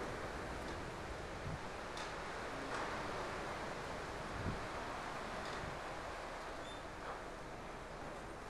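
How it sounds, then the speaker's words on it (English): Wind blowing at Skipton Castle, a steady broadband rushing roar with faint gusts and a few soft knocks, constant and fairly loud throughout with no voices. "Just listen to that wind."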